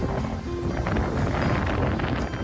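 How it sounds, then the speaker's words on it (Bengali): Steady, blustery wind roars across the microphone at a seashore with wooden stairs, with the wash of sea waves blended in beneath, continuous and fairly loud throughout. "বাতাসে সমুদ্রে এত সাউন্ড"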